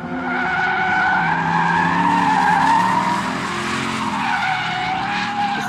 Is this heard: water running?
no